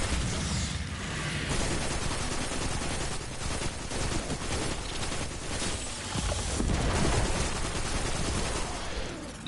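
Sustained auto rifle fire in the sci-fi shooter Destiny 2, a dense, continuous rattle of rapid shots mixed with explosions and ability effects, loud throughout with no talking.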